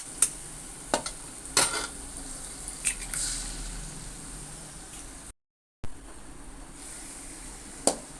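Three eggs cook in a pan for egg macaroni and are stirred, giving a low continuous sizzle with several sharp spatula taps and scrapes scattered throughout, close by and without talk.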